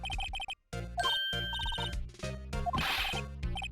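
Telephone ringing in the Ace Attorney video game, a repeated electronic ring in bursts over game music and sound effects, fairly loud, with no talking.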